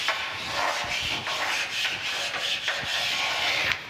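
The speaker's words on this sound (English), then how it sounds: "you can just kind of true them up by rubbing them against each other" Two precision ground flat stones rubbed against each other to true them, a steady close scraping grind with rhythmic back-and-forth strokes running throughout, no voices.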